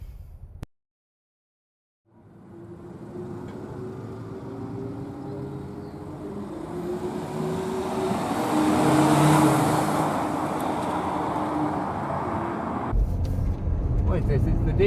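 A 2.2-litre twin-turbo diesel car pulling away on a race track, engine drone building steadily and loud from inside the cabin after a brief silence, with voices at the start and end.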